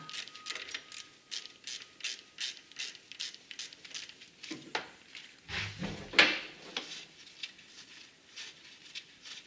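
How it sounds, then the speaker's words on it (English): Ratchet wrench backing 12mm bolts off the alternator of a 2004-2008 Acura TSX, with quick repeated clicking strokes, a few metallic clunks and a sharp ping partway through, close and moderately loud, with no talking. "Now we can go ahead and start taking our 12mm bolts out."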